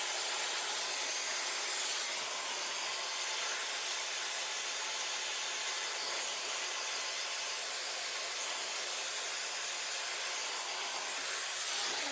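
Steady broadband whoosh of a hair dryer blow drying wet hair with hand-tied extensions, running continuously and close up with no talking.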